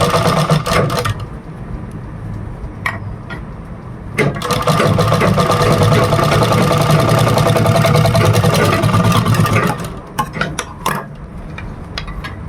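A sewing machine stitches a flat strip onto a V-neck designer blouse, running in a loud, steady whir for several seconds between shorter starts and stops.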